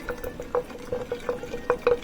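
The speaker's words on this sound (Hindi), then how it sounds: "इसको हम अच्छे से ना घोल लेंगे ताकि जो ये शक्कर है ना इसमें मिक्स हो जाए अच्छे से" A spoon stirs sugar into water in a container to dissolve it, tapping and clinking in a quick irregular rhythm with soft sloshing, close by.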